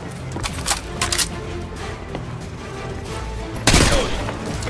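Gunfire from a Call of Duty Modern Warfare military mission, with bursts of rapid automatic shots and sharp single reports over a steady din of battle, and a heavy loud blast near the end.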